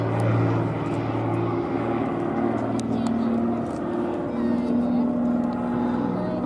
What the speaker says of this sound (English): These are sensational aeroplanes.